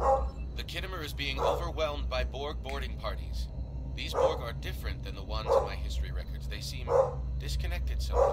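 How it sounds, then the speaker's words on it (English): A pet dog barks in a house in a few short bursts, faint and in the background, under a character's voice from the game Star Trek Online. "that's my dog barking"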